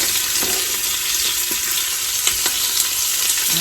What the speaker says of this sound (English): So here I just have some bacon cooking